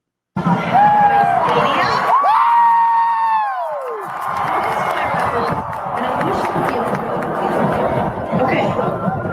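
A large crowd roars and cheers together, loud and sustained, with shouts and whoops rising over a dense wall of voices.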